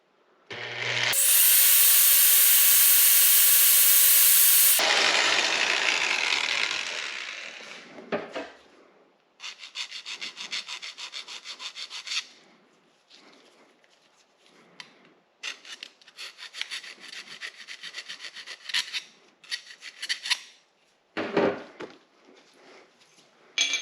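Piston rings are cut and ground to set the gap during an engine build, opening with a loud sustained grinding whine, then a series of shorter rasping strokes and bursts with pauses between, close up and with no talking.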